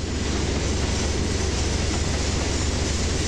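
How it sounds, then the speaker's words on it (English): A simulated train running on rails in a train simulator game, producing a loud, steady, dense rumble and roar that continues without a break. "they basically built an engine that was designed to simulate trains and the noises trains make"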